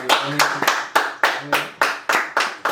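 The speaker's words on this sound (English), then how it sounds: "Do me a favor, clap it up" A small group claps loudly and close for a special guest in a casual indoor show setting, about ten sharp rhythmic bursts with a faint voice underneath.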